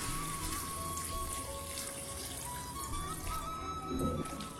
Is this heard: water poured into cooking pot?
yes